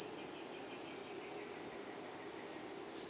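A steady, piercing high-pitched electronic whine from a loop test circuit oscillating on its own with no talk, its tone holding level before wavering and shifting right at the end.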